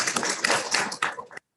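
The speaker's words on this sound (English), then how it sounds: "can we just give Senator Parizo a round of applause?" A short burst of applause for a senator at a student senate meeting, several people clapping briskly for about a second and a half before it stops abruptly.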